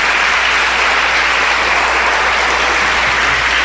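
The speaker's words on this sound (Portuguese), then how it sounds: "Uma salva de palmas a ele, que não nos deixará perder." Loud, sustained applause from a congregation during a church sermon, a dense, steady clatter of many hands clapping alone for the full length, without talk.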